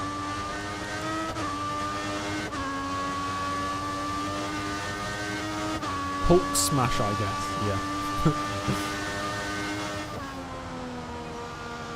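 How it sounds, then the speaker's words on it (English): A Formula 1 car with a Peugeot engine in the racing game F1 2014 whines at high revs, shifting gears with rising and falling pitch, while people talk over it. "Why does the car sound like a 90s McLaren?"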